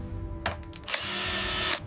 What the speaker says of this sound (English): Okay, I'm drilling it in.